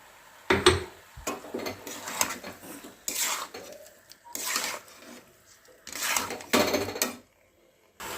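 Ground sesame paste being stirred into radish in a pan while making mulor ambol, a sour radish dish, with a metal spoon knocking and scraping against the pan in irregular bursts and short quiet gaps between them.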